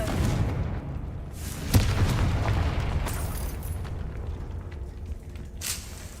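A Confringo fire spell bursts in Hogwarts Legacy with a booming blast over a dense, continuous rumble of game sound, with a sharper crack near the start of the blast.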